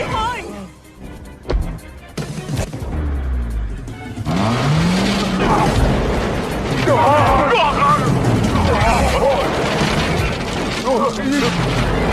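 Car chase from an action film, with engines revving, tires spinning and squealing as a car gets stuck in sand, loud and continuous under dramatic film sound and some voices.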